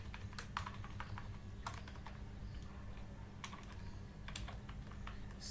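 Keys clatter on a computer keyboard as placeholder text is typed, a quiet run of irregular clicks in small clusters over a steady low hum, with no talking.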